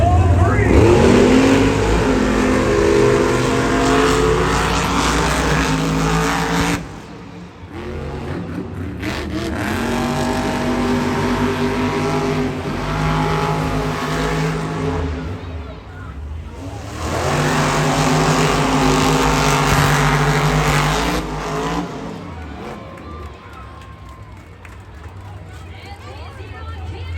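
Monster Jam monster trucks racing in a stadium final, engines roaring and revving loudly in long surges with brief lulls, layered with crowd noise and an announcer talking over the action.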